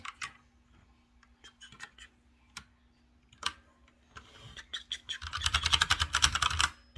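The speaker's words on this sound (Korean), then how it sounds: "톡톡톡톡톡톡톡 쳐. 자, 키보드 쳐봐." A child taps on a computer keyboard indoors, sparse, irregular key clicks at first that build into a fast, dense burst of typing near the end, close and fairly quiet.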